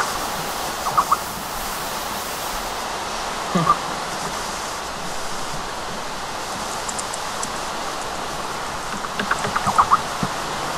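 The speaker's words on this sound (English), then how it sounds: "It's raining on the server." Steady in-game rainfall on a multiplayer server hisses throughout as an even, broadband wash, with a few brief thumps and clicks rising above it now and then.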